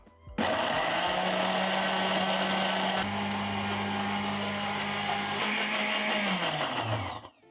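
A blender whirs loudly and steadily blending ginger for about seven seconds, its pitch shifting slightly midway before it winds down and stops.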